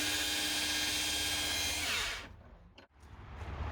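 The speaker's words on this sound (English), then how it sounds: "So you want to drill just until the drill bit is visible on the opposite side." A power drill bores into a wooden gate set between brick walls. It runs as a loud, steady whine for about two seconds, then cuts off, leaving a quieter tail.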